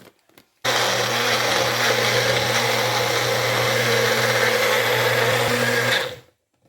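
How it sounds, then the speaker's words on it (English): A kitchen blender whirs loudly and steadily, blending green banana with milk for porridge, starting abruptly, holding a constant motor drone with a slight warble for about five seconds, then cutting off. "And then we're going to blend it away."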